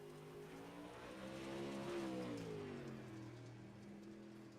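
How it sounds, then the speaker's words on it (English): A dirt modified race car runs a lap at Lanier National Speedway, its engine droning steadily with a rising and falling pitch as it passes, mixed with a broad rushing noise. "John Matthews out on track in the number 98 Blink Designs, 213simware.com PBR machine"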